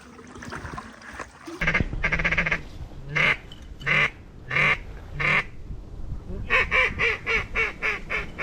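Ducks quack in a rhythmic series of loud, nasal calls, close by, in a field on Arkansas public land before shooting light, with a brief burst of sound before them and little talking.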